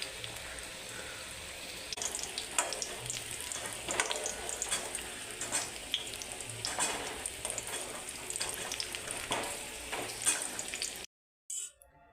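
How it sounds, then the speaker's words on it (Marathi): Jaggery syrup with cardamom and dry ginger powder cooking in a pan for amla murabba, a steady close bubbling sizzle with occasional stirring clinks that runs continuously before cutting off abruptly near the end. "इकडे गुळाचा पाक करणार आहे गुळाचा पाक बनवणार आहे"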